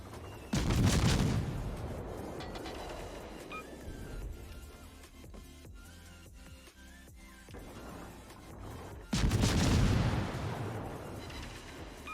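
Naval guns firing in World of Warships, with two loud, heavy booming salvos several seconds apart and a rumbling, crackling battle din with scattered shots between them.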